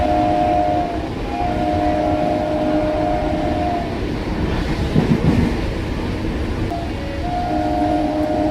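A fast Up Master Krishnanagar galloping local train runs through Palpara station without stopping, its steady rail roar heard from inside, with long horn blasts at the start and again near the end.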